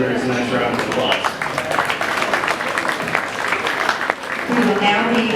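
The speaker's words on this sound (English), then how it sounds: "Let's go ahead and give those exhibitors a nice round of applause." Spectators at a county fair 4-H and FFA meat goat show clap for the exhibitors, a moderate patter of applause mixed with crowd voices and announcer speech.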